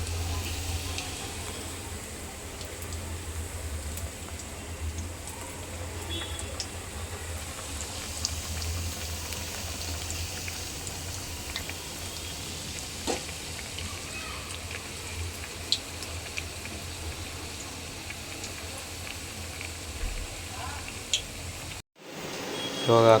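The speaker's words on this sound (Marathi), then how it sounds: "ते एक एक करून आपण त्याला चांगलं तळून घेत आहे." Alu vadi (colocasia leaf rolls) frying one by one in hot oil in a home kitchen, a steady soft bubbling sizzle that lasts throughout, with a few small clinks and a brief cut near the end.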